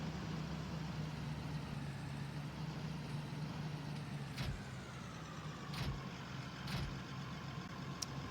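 A Massey Ferguson tractor engine idles in the Farming Simulator 19 video game with a steady low drone. A few soft clicks sit on top of it.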